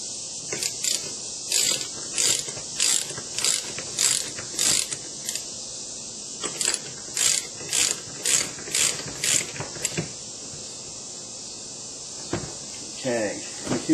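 Ratcheting wrench tightening a power steering line fitting on a Lexus LS 400, a rapid series of metallic clicking bursts in repeated strokes with short pauses, close and fairly loud, no talk.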